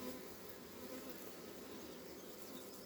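A honeybee swarm buzzes faintly but continuously: a dense, even hum of many wings with no pauses and no voices.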